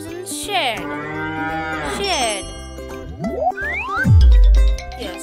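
A cow moos loudly near the end, a long low call over a cheerful children's music backing, with a brief springy sound effect before it.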